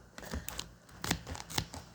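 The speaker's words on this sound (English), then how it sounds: "Currently have scissors in my hand cutting" Several sharp snipping and crinkling bursts of scissors cutting through plastic pork packaging, close up, in an uneven rhythm with brief pauses.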